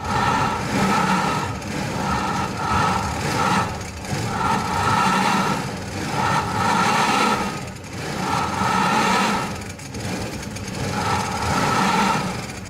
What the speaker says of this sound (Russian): сможет ли Ioniq съехать с трех стендов, когда хорошее сцепление с дорогой есть только у одного колеса